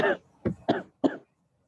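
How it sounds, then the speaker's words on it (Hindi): A person coughs four times in close succession, a long burst followed by three shorter, sharp coughs, loud and close with brief silences between them. "तो मैं अभी खांसी रहा हूँ, अभी तक खांसी रहा हूँ।"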